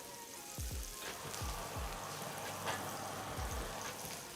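Salted onions frying in a pan, a faint steady sizzle with a few low soft knocks scattered through, quiet and close, no talk.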